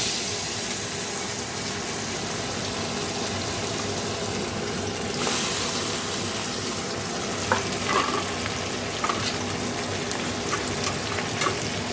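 Puti fish fry in hot oil over a lowered gas flame, giving a continuous dense sizzle with scattered sharper pops and spits, steady and close throughout.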